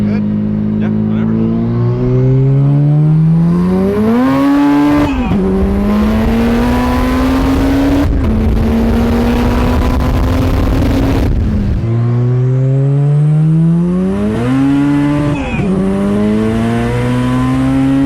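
A loud 900-horsepower turbocharged all-wheel-drive K-swapped Honda Civic EG coupe, running without its full exhaust, revs up repeatedly, climbing in pitch through several gear changes with short drops between, close and raw-sounding.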